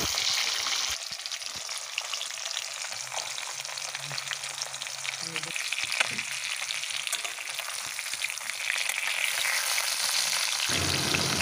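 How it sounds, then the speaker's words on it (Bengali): Fresh hilsa fish pieces fry in oil, turned from side to side. A continuous crackling sizzle runs throughout with a low hum beneath it, and the sizzle grows louder toward the end. "মাছগুলো এপিট ওপিট করে হালকা করে ভেজে নামিয়ে নিচ্ছি পরের মাছগুলো ভাজার জন্যে"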